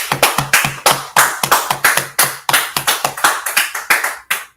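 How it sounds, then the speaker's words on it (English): Sharp hand claps from a small group or single clapper ring out in a quick uneven run of bursts, close and loud, with no talking. "Give this brother Jeremiah a hand."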